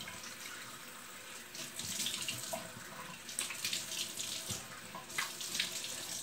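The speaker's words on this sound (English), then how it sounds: "Warm water, just rinse it off." Warm tap water runs steadily into a bathroom sink as a face is rinsed after shaving, a close, continuous splashing hiss with a few louder surges of water.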